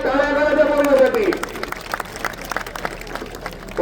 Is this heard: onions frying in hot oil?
no